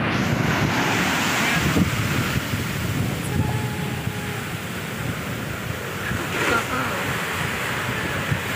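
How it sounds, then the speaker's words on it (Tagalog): Steady wind at the shore of Cagayan Bay buffets the microphone with a loud, continuous rushing roar, with surf-like noise underneath and no clear voices. "Ang sarap ng hangin."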